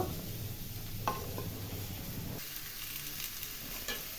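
Coriander, cumin, chilli and tomato paste frying in a pan for rui fish with winter vegetables, a steady close sizzle with stirring scrapes and a brief sharp clink near the start.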